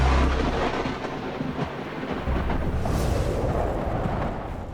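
Thunder from lightning rolls as a loud, continuous deep rumble that swells and fades slightly over several seconds, with no voices.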